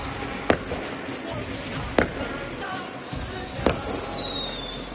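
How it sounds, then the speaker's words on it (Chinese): Firecrackers go off in a Chinese village as a dragon lantern procession gets ready to set out: three sharp, loud bangs spaced a second or more apart over a steady murmur of background noise and faint voices. "他现在放炮的意思呢就是说准备出灯了"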